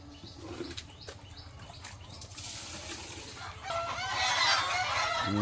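Village chickens cluck and squawk with wing flaps close by, then the noise rises into a louder, busier burst of fowl calls and crowing near the end.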